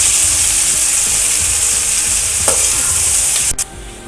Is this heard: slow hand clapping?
no